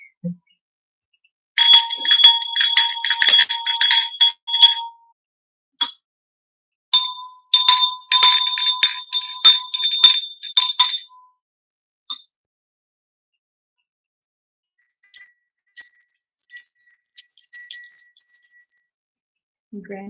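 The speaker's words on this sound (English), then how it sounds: "I'm about to ring the bell and it's going to get pretty loud." A bell rung repeatedly before a talk begins, bright metallic strikes in two dense bursts with a ringing tone, then a fainter, softer series of chimes trailing off, close and alone without speech.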